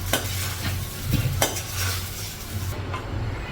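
Semiya pulihora, a vermicelli dish, is stirred in a pan with a spoon, giving a continuous scraping rhythm over a low sizzle, with occasional clinks against the pan.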